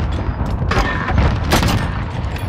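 Video game gunfire as a player tries to shoot down a target, a dense run of loud booming shots and bursts over about two seconds.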